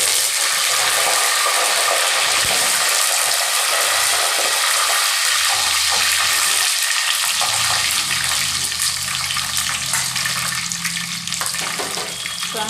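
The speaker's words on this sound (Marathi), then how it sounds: "आता आपण कढीपत्ता घालूया." Curry leaves dropped into hot masala in an egg biryani pan burst into loud, steady sizzling and crackling, close up and continuous with no talk over it.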